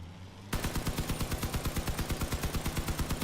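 Four machine guns in the video game Crossout open fire together after a short quiet lead-in, a loud rapid rhythmic stream of shots that continues steadily to the end.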